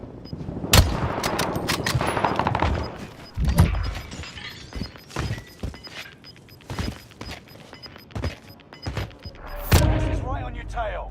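Gunfire in a shooter video game: loud, sharp shot bursts and rapid volleys over a layered game mix, with people talking excitedly over the action.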